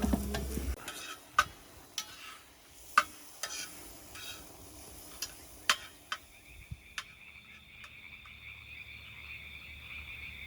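Beef and pork sizzle in pans at a camp for street tacos, with sharp utensil clicks and scrapes at irregular intervals and a steady high whine near the end. No one speaks.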